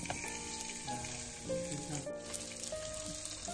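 Steady, crackling sizzle of fennel frying in a pan over very low heat, with faint tonal sounds lingering in the background.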